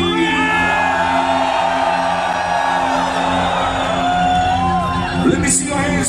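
Rave crowd at a drum and bass night whooping and screaming over loud, continuous music with sustained tones, the cheering spread across the whole stretch.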